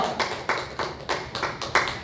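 A church congregation at a special early-morning prayer service claps in a steady, rhythmic beat, about six evenly spaced bursts of clapping, fairly quiet and with no talk over it.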